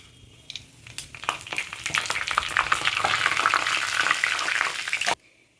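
Dry red chillies and panch phoron hit hot mustard oil, giving a loud, dense sizzle with sharp crackling pops that builds steadily before cutting off abruptly, leaving near silence.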